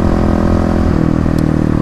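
A 2018 Kawasaki KLX351 with a full Barker exhaust runs on the road, its deep engine note loud and steady, with a slight dip in pitch partway through.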